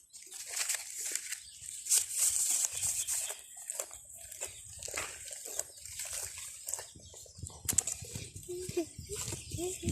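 A goat chews mango leaves, with repeated crisp crunching and tearing sounds close by, mixed with rustling throughout and brief voices in the background.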